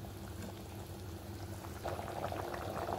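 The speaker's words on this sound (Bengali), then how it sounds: "এই যে ভাজা পনিরটা দিয়ে দেবো, দিয়ে 2-3 মিনিট সুন্দর করে আবার ফুটাই নেব" Kaju paneer rasa gravy with fried paneer simmering in a pan: a steady close bubbling and popping that grows livelier and louder partway through, with no voices.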